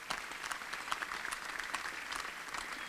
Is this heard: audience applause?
yes